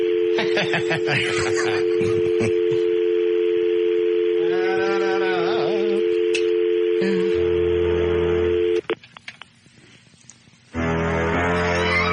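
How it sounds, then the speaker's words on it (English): A dial tone on a radio-studio phone line, then rapid DTMF keypad beeps as star 67 is entered to block caller ID before a number is dialed, with a brief snicker, clicks and a shift to line noise. "How do you block the phone number calling out of here? Star 67, I think."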